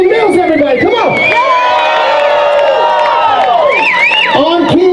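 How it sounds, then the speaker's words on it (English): A packed crowd at a Cheap Trick tribute night at the Whisky cheers, whoops and applauds continuously, loud and close, with scattered shouts rising above the roar. "No thriftiness with your applause."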